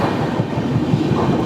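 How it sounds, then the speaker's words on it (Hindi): Ekta Nagar Dadar Western Express train passing close by while overtaking, a steady low rumble of wheels and carriages rolling past without a break. "तो ये है Ekta Nagar Dadar western express. Overtake कर लिए यहाँ पे।"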